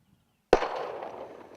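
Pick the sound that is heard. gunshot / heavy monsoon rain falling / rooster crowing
gunshot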